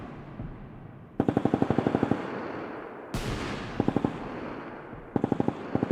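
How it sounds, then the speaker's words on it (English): Vietnam War reenactment machine gun fire set in 1967, with three rapid automatic bursts of roughly a second each, loud and close, separated by brief gaps and followed by sharp single reports and echo. "Perimeter teams respond with controlled fire, directed at likely enemy positions to disrupt further activity."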